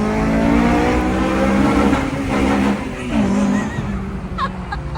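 A Honda Civic cruising at high speed, with a steady engine drone and road roar throughout, loud and close from inside the cabin, with no talking.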